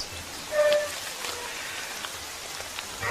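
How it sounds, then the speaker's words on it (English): Heavy rain pattering through the jungle in the dry season, a dense, even hiss of drops with a few sharper splashes and faint tonal calls underneath. "This is supposed to be the dry season, and it's turned out to be the rainiest of rainy seasons"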